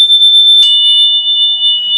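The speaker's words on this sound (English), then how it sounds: "Play 2 tones." A steady pure tone holds throughout, and a second, lower tone joins partway through to sound with it. Both are loud and sustained, and no one speaks.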